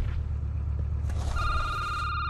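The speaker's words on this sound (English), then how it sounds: "The phone's ringing." A telephone rings inside the security booth in the In Game Asylum video game, a bright electronic trill starting partway through over a low, steady rumble.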